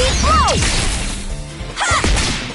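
A Digimon's Stun Beat Blow attack in the game Digimon Story Time Stranger, a loud burst of whooshing swishes and smacking impacts with a sweeping tonal zing at the start and another strike near the end.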